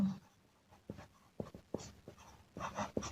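Pen or chalk strokes as a maths solution is written out, a quiet run of short scratchy taps and scrapes at close range with no talking.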